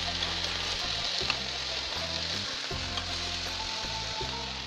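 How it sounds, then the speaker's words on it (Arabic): Small diced onion sautéed in a hot pan, a steady close sizzle and crackle with faint stirring scrapes throughout and no talking. "انا دلوقتي نزلت البصلاية كده متقطعة مكعبات صغيرة على قد حجم الفراخ، وهبدأ بقى اشوحها كده كويس"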